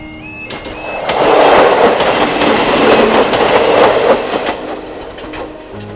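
A train on the Kyle of Lochalsh line rumbles past close by with rhythmic clickety-clack of wheels, building quickly and holding steady, a brief whistle-like tone near the start.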